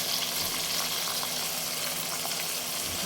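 Tomatoes dropped into a pan of garlic and ginger paste set off a steady, loud sizzle that fills the whole moment, with no voices over it. The paste is a base for a chicken or meat dish cooked with bitter gourd.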